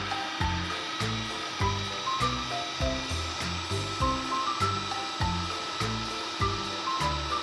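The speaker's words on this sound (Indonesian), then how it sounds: "kocok semua bahan yang sudah dimasukkan ke dalam wadah tadi dengan menggunakan mixer selama beberapa menit" An electric mixer beats batter ingredients in a bowl, giving a steady motor whine with a regular pulsing rhythm as the beaters knock against the bowl, close and continuous.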